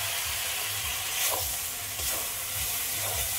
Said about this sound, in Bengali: মাংসটা সিদ্ধ করার সময় যে জলটা বেরিয়েছিল প্রেসার কুকার থেকে, ওই জলটা অল্প করে একটু দিয়ে দিচ্ছি।